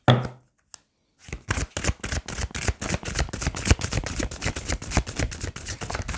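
Tarot cards being shuffled by hand, a brief riffle and a single tap before a fast run of crisp, rhythmic card slaps and flicks, close and alone without talk.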